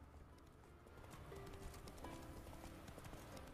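Horse hooves clip-clopping in The Witcher 3 video game, a steady quick rhythm of hoofbeats running throughout at a moderate, fairly quiet level with faint background game ambience.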